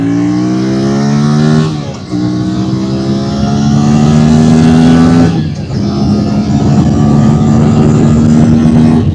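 Aprilia RS457 motorcycle engine revving hard through the gears, loud and close, rising pitch sweeps broken by two brief shift dips, no talking.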